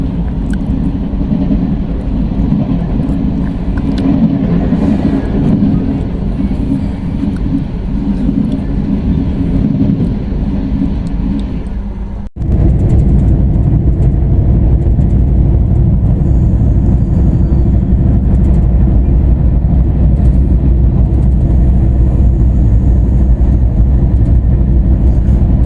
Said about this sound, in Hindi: Express overtake.